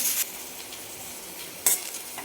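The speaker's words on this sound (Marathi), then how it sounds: "आपण आता याला भाजून घेणार आहे तर हे कढईमध्ये टाकते लोखंडी कढई आहे" Ghol leafy greens dry-roast in an iron kadhai, a hissing rustle broken by two short scraping stirs near and loud, with no talk.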